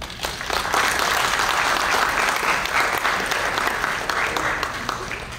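A dinner crowd at a police officer awards and appreciation event claps loudly and continuously, a dense, even burst of applause that holds for several seconds.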